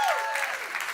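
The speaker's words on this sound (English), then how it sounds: "So give them a round of applause." An audience applauds in the WNYC event space during a Climate Week panel on the UN and the nonprofit sector; a short, steady burst of clapping fills the room, with a voice trailing off at the very start.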